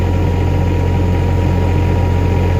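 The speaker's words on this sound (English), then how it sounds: "If I step off of the pedal, the engine speed will automatically reduce the minimum engine speed, or RPMs." Engine of an SM100/SM120 machine running steadily and loud throughout, a constant low droning hum with no clear change in pitch, as if settling at idle after the pedal is released.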